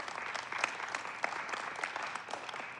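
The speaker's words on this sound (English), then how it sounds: "Give yourselves a round of applause for sure" Audience at a national club meeting in Las Vegas applauds, a dense, steady wash of many hands clapping at moderate distance, filling the whole stretch without a break.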